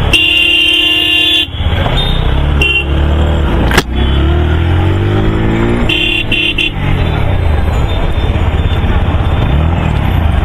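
Dense street traffic with cars and motorcycles droning continuously, cut by repeated loud car and truck horn honks, some short toots and some held blasts, close and busy throughout.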